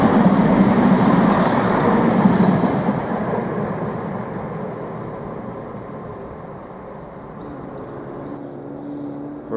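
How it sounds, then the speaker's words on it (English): A Class 170 diesel multiple unit rolls into a station, a loud rumbling rush of wheels and engine that gradually eases as the train slows, with no voices over it. "we've got the 1012 service to Peterborough now arriving. Here it comes."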